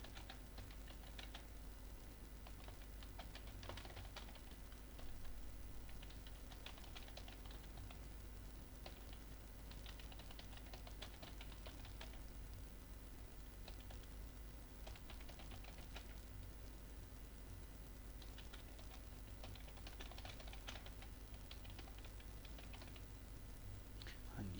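Scattered keyboard typing while working in Microsoft Word, faint and irregular clicks under a steady background hum and low room noise.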